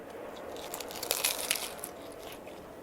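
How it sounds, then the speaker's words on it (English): Soft crunching bites into a crispy chimichanga-style burrito filled with an Oklahoma onion burger, a few crisp crackles clustered in the middle, faint and close with no talk. "Obviously, you guys heard the crunching."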